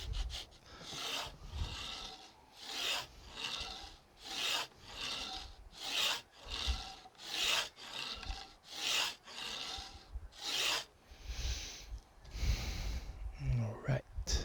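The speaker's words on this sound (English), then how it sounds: "I guess I need a bigger beveling file, something that is a lot thicker in here so that it doesn't slide off." A beveling file rasps across the fret wire ends on a guitar neck in long, regular back-and-forth strokes, about a dozen close, loud passes with short pauses and faint breathing between them.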